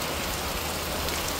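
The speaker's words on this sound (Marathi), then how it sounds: "जबरदस्त पाऊस येतोय ना" A torrential downpour keeps up an unbroken, close roar of falling water, loud and uniform throughout, with no one speaking.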